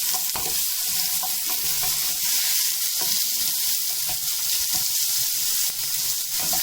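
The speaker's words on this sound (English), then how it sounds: "You can hear the sizzle." Onions sizzle loudly in hot oil for a curry, a continuous close crackling hiss with no voices over it.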